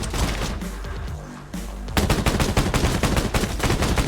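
Rapid bursts of automatic gunfire from a video game shooter crackle loud and close, starting with a dense rumble of shots and breaking after two seconds into an even, fast string of sharp reports, with no talk over it.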